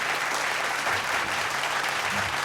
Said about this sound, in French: Est-ce qu'on peut applaudir bien fort